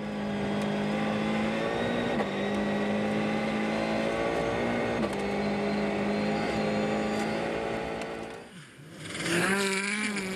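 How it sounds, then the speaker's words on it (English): A Ford Fiesta RS rally car on a stage of the 2013 Rally Sweden roars continuously at high revs, its engine note rising and dropping through gear changes as it takes corners, then surging again close by. "You can see Mads flinging the Fiesta RS from corner to corner."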